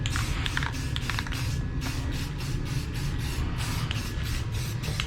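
Motor spray painted black with an aerosol can, a loud close hiss broken into a steady run of short rhythmic bursts as the nozzle is pressed and released.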